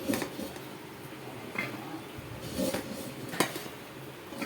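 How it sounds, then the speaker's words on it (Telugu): Cooked rice being tipped into a wide bowl for mango pulihora, with soft clinks and scrapes of a utensil against the dish coming in a few scattered bursts, close and fairly quiet. "మనం వండుకున్న రైస్ అంతా ఈ డిప్పులోకి ఇలా వేసేసుకోవాలి"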